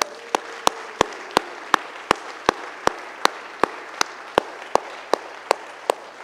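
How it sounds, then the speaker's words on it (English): Sharp, evenly spaced single claps, about one every third of a second, ring out loud and close over a faint background murmur as a church congregation stands to give a round of applause. "give each other a round of applause right now"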